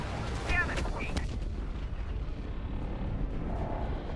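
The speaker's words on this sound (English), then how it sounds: "Pretty nice explosion." An explosion in the real-time strategy game Sanctuary: Shattered Sun sets off a quick cluster of sharp booms. A softer rumbling tail fades away over several seconds.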